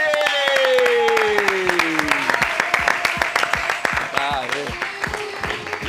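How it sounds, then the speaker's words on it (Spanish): Studio audience on a football talk show applauds with sharp, distinct claps that start sparse and thicken into steady clapping, while someone speaks briefly over the start. "un aplauso para ellos, por favor"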